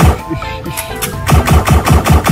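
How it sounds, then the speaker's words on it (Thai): Rapid bursts of automatic gunfire in a video game, loud and rhythmic, with a steady rattling volley building in the second half of the clip. "โอ้ยิงปืนยิงปืน"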